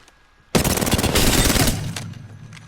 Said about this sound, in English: Let's just switch to R3 to finish that off.